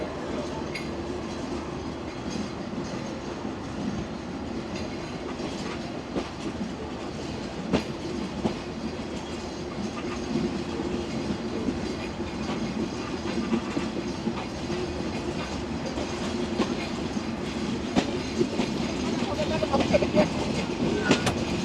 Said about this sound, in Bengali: চুয়াডাঙ্গা রেল স্টেশন থেকে 30 মিনিট লেটে চলছে আমাদের সীমান্ত এক্সপ্রেস